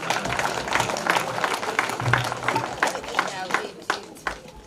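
A crowd claps for Makueni County First Lady Anita Mutula at the launch of an early childhood digital learning programme, with moderate, steady applause under some talking.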